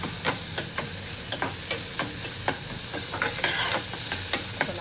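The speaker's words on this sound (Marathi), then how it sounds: "मस्त थोडासा कांदा परतून घ्यायचा हलकासा." Onion and green chili sautéing with mustard seeds in a pan, a steady dense sizzle broken by frequent sharp scrapes and taps of a spoon stirring, close and fairly loud with no talking.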